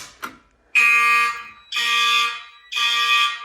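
A mechanical fire alarm horn in a basement system test sounds a code 3 temporal pattern: three loud, sustained buzzing blasts of about a second each, separated by short gaps, preceded by a brief click.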